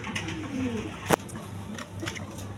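Pigeons coo in soft, low, rolling calls nearby, with a sharp click or tap partway through and a quiet background.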